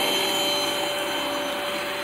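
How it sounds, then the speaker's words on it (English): A 2010 Panasonic multi-purpose pro commercial upright vacuum runs in a church hall, a loud, steady close whine and rushing airflow that holds constant throughout with no voices. "running this 2010 Panasonic upright. This is a multi-purpose pro commercial vacuum"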